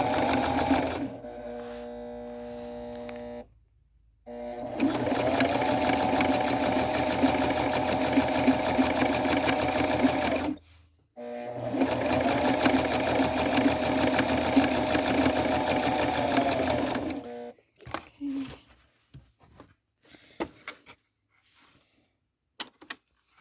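A sewing machine stitches the second pass of a flat felled seam, running in two long steady bursts of motor whir with a pause between them, then stopping into a few faint handling clicks.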